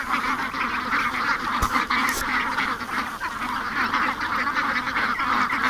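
Ducks quacking and chattering nonstop nearby, a busy flock calling over one another in a dense, even stream with no talk.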